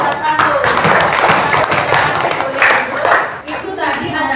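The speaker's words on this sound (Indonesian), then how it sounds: "Tepuk tangan buat Prabu" Classroom students clap for a classmate after he answers correctly, a busy burst of hand claps with chatter and voices mixed in throughout.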